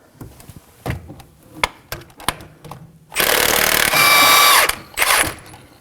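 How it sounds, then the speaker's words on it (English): An impact gun works loose the crankshaft vibration damper bolt on a 2014-2020 Acura MDX: a string of sharp knocks and taps, then a loud, close, sustained hammering burst and a shorter final rattle. "With our impact gun, let's get it off."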